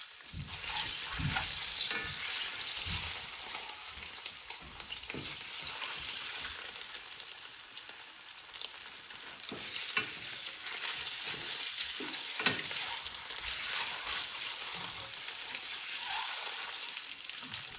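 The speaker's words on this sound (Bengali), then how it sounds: "কথা বলতে বলতে আমি ডিমটা ভেজে নিলাম" Eggs fry in oil in a wok, a steady, dense sizzle with crackling spits and occasional stirring scrapes running throughout, close and fairly loud with no talking.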